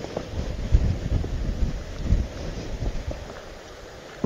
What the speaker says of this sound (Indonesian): angin cuma sebelah sini guys, tapi kalau di barat di timur tidak begitu kenceng ya